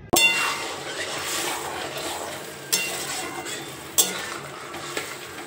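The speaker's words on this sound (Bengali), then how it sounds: "দেখো অল্প করেই জল দিচ্ছি" Water splashes into a pan of cooking vegetable stems with a sudden hiss. A steady bubbling simmer follows, broken by a few light metallic clinks of a utensil against the pan.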